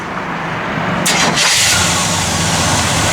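A 1970 Chevrolet Malibu's 400 engine cranks and catches about a second in, then settles into a steady idle, close and fairly loud.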